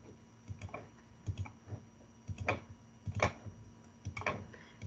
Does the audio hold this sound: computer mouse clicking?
yes